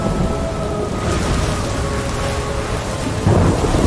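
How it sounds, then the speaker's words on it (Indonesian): Thunderstorm with rain in the video game Ori and the Will of the Wisps: loud steady downpour hiss with a low rumbling roll of thunder swelling toward the end, no talk. "Nah, lo ada petir teman-teman."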